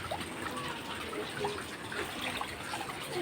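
Rain floodwater pooled in front of a house, heard as a steady, close rush and gurgle of flowing water with small splashy fluctuations and no voices.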